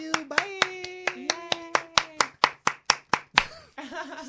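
Sharp hand claps strike in a steady rhythm, about sixteen of them, loud and close. Voices and squeals carry beneath the early beats and rise into excited chatter once the clapping stops.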